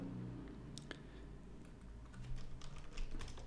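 Steady typing on a computer keyboard, a continuous run of soft, close key clicks with no talking, while text is entered into a school press web page.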